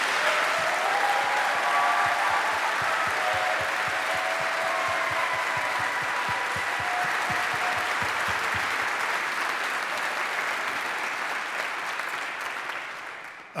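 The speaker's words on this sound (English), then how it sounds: "Let's give them a huge round of applause." Sustained applause from a large audience at an ROTC commissioning ceremony, a dense, steady roar of clapping that holds for over ten seconds before fading out.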